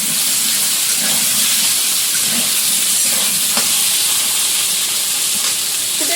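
Taro (kochu mukhi) dropped into hot oil in a kadai, a loud, constant hissing fry that stays close and even throughout, without speech.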